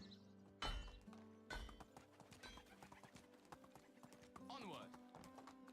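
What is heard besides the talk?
horse hooves clip-clopping in the video game Medieval Dynasty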